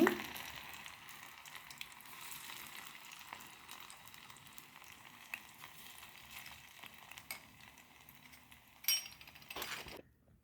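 Mushroom manchurian pieces frying in hot oil make a faint, steady sizzle with light scattered clicks and taps, quiet and close, ending with a few sharper knocks.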